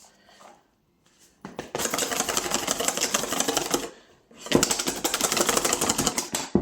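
Cream with vanilla is whipped until firm in two sustained, loud stretches of busy rattling and whirring, separated by a brief pause and preceded by a moment of near quiet.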